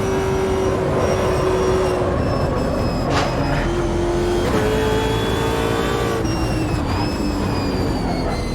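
A race car driven through the turns of a track, its engine note steady and loud with rising and falling pitch as it shifts and corners, close and continuous.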